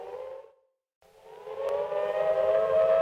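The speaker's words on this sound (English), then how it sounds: "The sirens are wailing outside." Civil defense sirens wail outside, one rising tone fading out, a short gap, then another swelling up steady and loud from a distance, alone with no voices.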